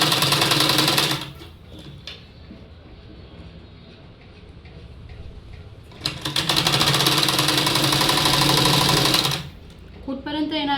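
A sewing machine stitching a salwar runs in two loud, steady bursts of rapid mechanical clatter, close up, with a quieter pause between them and a voice speaking over the lull.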